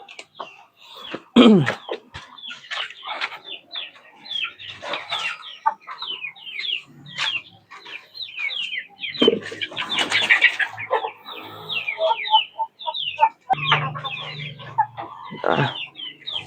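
Chickens cluck and chatter close by as they are given fermented coconut pulp feed, a busy stream of short calls and squawks from several birds, with some shuffling in between.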